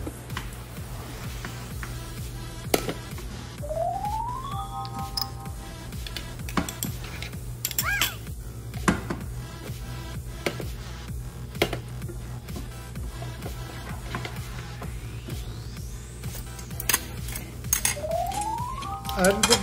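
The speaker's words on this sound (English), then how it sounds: "Then I'm adding the garlic and the pepper." Garlic and pepper go into a pot with a little coconut oil for Jamaican brown stew fish, bringing clinks of utensils against cookware, light stirring and faint sizzling, with a few rising tonal sweeps and a steady low hum.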